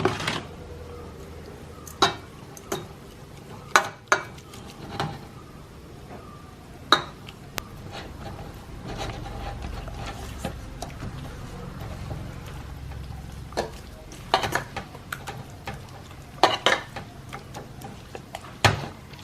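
Fish is mixed with chili powder and salt in a bowl, giving a series of scattered metallic clinks and knocks against the dish over a quiet background, spaced irregularly with brief pauses.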